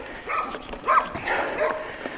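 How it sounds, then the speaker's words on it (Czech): A dog trotting beside a hiker on a quiet hill trail gives a few short, close whimpering yips, with faint background noise. "Ten pes jde furt vedle mě"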